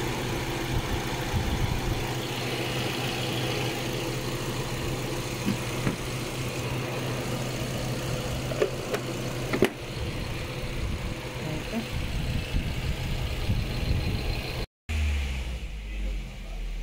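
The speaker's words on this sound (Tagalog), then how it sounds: "3000 RPM natin para malaman natin kung gumagana ba yung fan niya sa optimal temperature niya" A Suzuki Swift Gen 2 with an overheating problem runs its engine steadily, held at about 3000 RPM with the radiator fan going: a constant near drone and whir throughout, with a brief dropout near the end.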